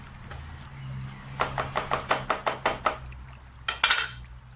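Wet cement mixture for a handmade vase is stirred in a container, a quick run of about a dozen sharp, evenly spaced scraping knocks followed by two more after a pause.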